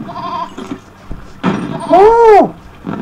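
Goat bleating in a video game, a single wavering bleat rising and falling, preceded by thumps and a brief burst of voice-like noise.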